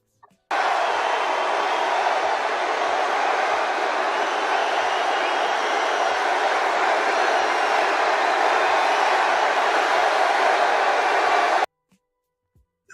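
A political rally crowd roars in a continuous, loud wall of cheering and noise that lasts about eleven seconds, then cuts off abruptly to near silence.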